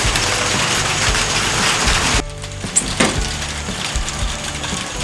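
Rain pours down on a pole barn roof in a loud, dense hiss for about two seconds, then eases to a lighter, steady patter with a few sharp drips.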